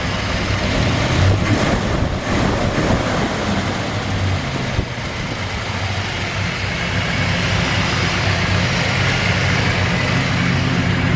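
A 1957 Chevrolet 3100 truck engine with an Edelbrock dress-up kit idles steadily up close, a continuous low rumble with slight uneven throbbing and no talk.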